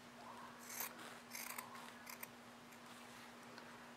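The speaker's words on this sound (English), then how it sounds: "I'm gonna cut it right on that line that I just had there." Scissors cutting fabric along a bag panel seam, a few quiet snipping bursts spaced irregularly across the clip over a faint steady hum.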